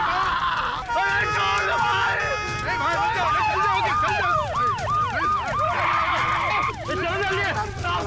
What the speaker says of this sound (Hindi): गाड़ी है एम्बुलेंस है।